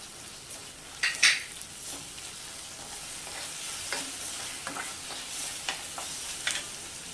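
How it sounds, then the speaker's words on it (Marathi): Onion and ginger-garlic paste frying and being stirred in oil in a pan, a steady soft sizzle with a few louder scraping stirs, close and alone without talk. "कांदा आणि आलं लसूण पेस्ट चांगली परतून झाली आहे तेलामध्ये"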